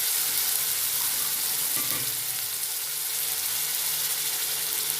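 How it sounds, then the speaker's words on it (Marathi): A wet masala paste of fresh grated coconut fries in oil for stuffed brinjal, making a constant hissing sizzle with a brief stirring clatter near the middle. "ओलं खोबरं घेतलंय मी, त्याच्यामुळं चांगलं तेलात मसाला भाजून घेऊ।"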